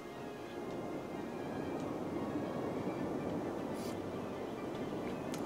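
A passenger train in the Cities Skylines city-building game produces a steady, faint mechanical rumble and rolling hum, continuous and distant with no talk.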